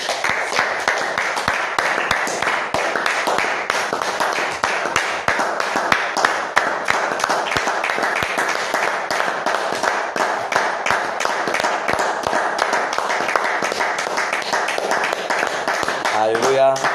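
A church congregation applauds for a long stretch, a dense, steady wash of many hands clapping with voices mixed in, fairly loud throughout.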